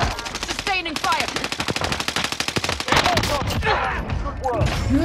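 Sustained automatic gunfire in the shooter game Call of Duty Warzone on Rebirth Island: rapid, loud bursts run nearly the whole time, with excited voices shouting over the shooting.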